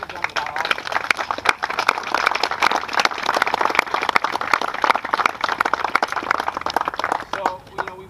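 Steady, dense applause from an audience at the Syracuse Chargers boathouse groundbreaking ceremony, with sharp claps packed together and holding fairly even for about eight seconds before easing slightly at the end.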